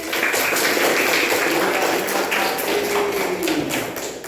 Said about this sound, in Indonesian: Tepuk tangan Mbak Fitri